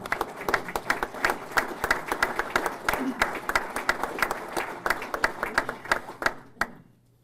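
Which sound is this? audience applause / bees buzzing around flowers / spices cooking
audience applause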